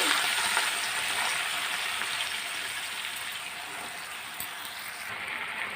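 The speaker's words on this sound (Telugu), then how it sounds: "గోంగూర కూడా ఆయిల్లోనే అండి, మన గుడ్లు వేపుకున్న ఆయిల్ ఉంది కదా, అందులోనే వేపుకుంటున్నాం." Gongura leaves frying in oil left over from frying eggs, giving a steady loud hiss and crackle that stays even throughout, with no voices.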